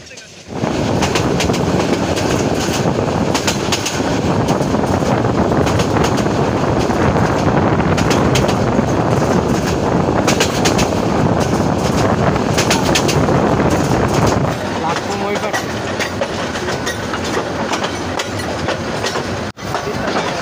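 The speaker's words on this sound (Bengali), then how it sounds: "তিস্তা এক্সপ্রেস ট্রেনটি ইতিমধ্যেই ময়মনসিংহ রেলওয়ে জংশন থেকে ছেড়ে দিল" Tista Express passenger train running on rails after departing Mymensingh railway junction, a steady loud rumble with rhythmic clickety-clack and wind noise close to the microphone throughout, easing slightly toward the end.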